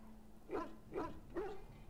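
A Mabari war dog in the Dragon Age video game barks three times in even succession, deep and moderately close, over low game ambience.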